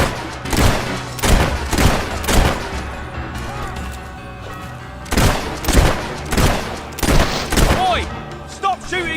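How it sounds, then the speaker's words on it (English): Rapid gunfire bursts crack in clusters through a firefight in the video game Fable 3, loud and close, with shouting voices mixed among the shots. "Stop shooting me mates!"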